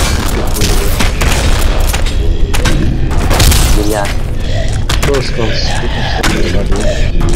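Dense, loud gunfire and heavy booms from Counter-Strike Online 2, continuous bursts of shots layered thickly with someone talking over the action throughout.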